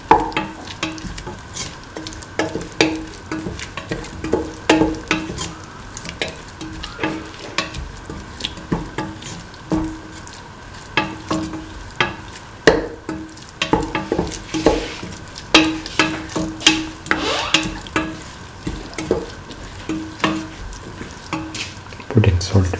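A spoon stirs an egg, potato and coconut milk stew in a pan, scraping in steady repeated strokes over a soft sizzle, with a voice speaking now and then.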